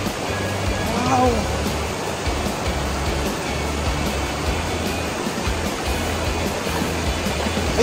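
Asik-Asik curtain waterfall roars as a dense, continuous wall of rushing water, loud and close, with a brief voice rising over it near the start.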